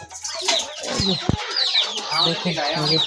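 Chickens cluck in short, repeated bursts over a busy outdoor background, with a few sharp knocks and some talking mixed in.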